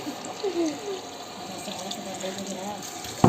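Water running from a tap, a steady close hiss and splash throughout, with a voice talking over it.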